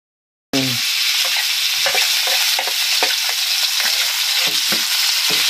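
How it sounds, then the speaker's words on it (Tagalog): Meat sautéing in a hot pan for a simple Ilocano home-cooked dinner, a steady loud sizzle broken by repeated stirring scrapes, with no talking. "igisa lang po natin ang pagluluto"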